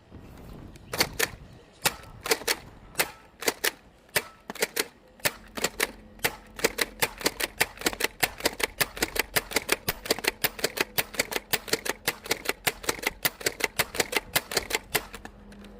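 A Nerf Magnum high-capacity blaster slam-fires darts in a long run of sharp, close clacking shots, spaced at first and then coming in a fast, steady rhythm.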